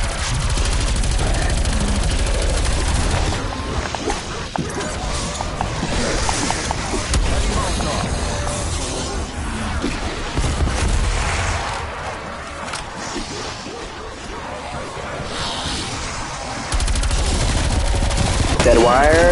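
Heavy cannon-like gunfire in a video game, a dense run of booming, rapid shots that continues for most of the stretch and swells louder near the end, with bursts of talk from players mixed in.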